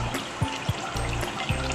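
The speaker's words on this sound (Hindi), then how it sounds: "1 कप पानी डालेंगे।" A cup of water trickles and splashes into a pot of mutton kunna gosht, a steady close pour with a few small plops.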